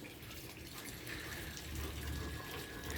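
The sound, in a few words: Rottweiler dog drinking water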